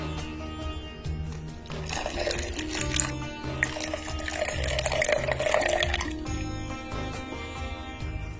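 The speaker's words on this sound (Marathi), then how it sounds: "आधी उरलेलं दूध घालायचं आपल्याला." Milk pours into a chocolate brownie milkshake mixture in a home kitchen, a steady liquid stream that swells in the middle and then tapers, heard close with no talking.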